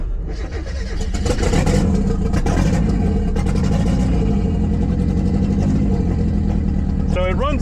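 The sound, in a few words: Mazda Miata engine running after Deatschwerks injector install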